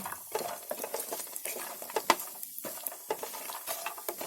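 Ingredients for chicken biryani are stirred and roasted in a pan over high heat. A close spatula scrapes and taps repeatedly over a soft sizzle, and nobody speaks.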